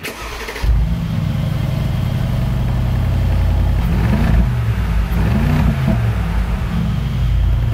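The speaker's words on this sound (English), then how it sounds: "These are the real dynamic exhaust by HOFELE" A HOFELE dynamic exhaust on an HG800 SUV: a sharp starter crank, then the engine catches and settles into a loud, close, steady idle with a few short rev blips.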